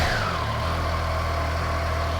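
A Triumph Trident 660 motorcycle with its stock exhaust idles steadily, a close, low, even engine hum that holds constant after a brief dip at the start.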